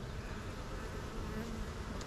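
Honey bees buzz steadily and close up in an open hive during an inspection of a weak colony, a dense, even hum with no pauses.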